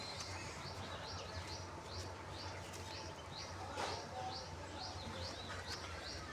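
A pigeon coos in soft, repeated calls at a steady rhythm, faint over a low background hum, with a brief flutter near the middle.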